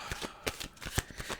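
Tarot cards are shuffled up close in quick riffling bursts, several short rustling flicks and a soft tap, quiet and without speech.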